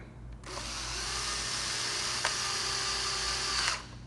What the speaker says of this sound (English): our next step would be to put our screws inside. Take your screwdriver.